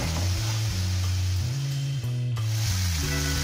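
A spice paste with tomato fries in a pan, giving a steady close sizzle with stirring scrapes over low, shifting background music.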